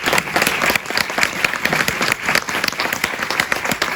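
A crowd claps hard for the guests at a book presentation, a thick wash of applause with sharp individual claps standing out near the mic, rising and dipping slightly throughout.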